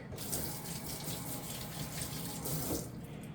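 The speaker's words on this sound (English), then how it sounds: "Rinse my hands quick." Running faucet pouring steadily into a kitchen sink while hands are rinsed, a continuous close splashing rush of water with small shifts as the stream is disturbed.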